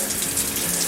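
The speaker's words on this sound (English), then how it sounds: "This is water coming down from the return, not coming up, I think." Water pouring down from the return of an outdoor koi pond being readied for winter, a close, steady splashing gush with no talking.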